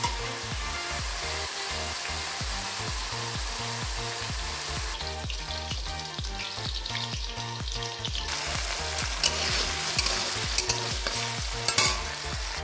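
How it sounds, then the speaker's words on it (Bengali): Potatoes frying in oil until reddened, a loud, close, continuous sizzle with rhythmic stirring strokes that grows brighter and crackles more toward the end, no voices present. "আলুগুলো আমি লাল করে ভেজে নামিয়ে নেব"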